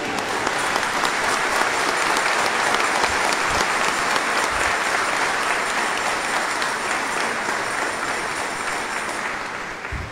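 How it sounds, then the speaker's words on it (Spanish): A church congregation at a patron saint's festival mass for San Sebastián in Yumbel claps loudly and steadily, a dense, sustained round of applause from the crowd lasting throughout and tapering slightly at the end. "Un fuerte aplauso a nuestro santo patrono."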